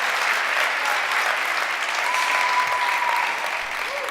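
A church congregation at a Spanish-language prayer service applauds loudly and steadily, the dense clapping sustained for about four seconds before easing slightly at the end.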